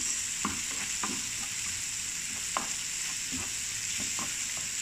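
Tomatoes sizzle and fry steadily in a pan, a dense constant hiss broken by occasional stirring clicks and scrapes, with no talking.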